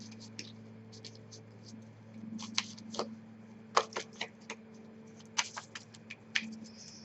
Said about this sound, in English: These cards are kind of a little bit hard to shuffle